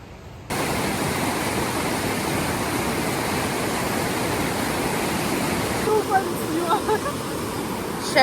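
A river rushes in a loud, unbroken wash of flowing water nearby, and a few brief voices rise faintly over it toward the end.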